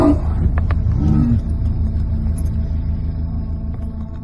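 Tiger in a forest giving a deep, rumbling roar that starts loud and close, then fades into a lower sustained growl over a few seconds.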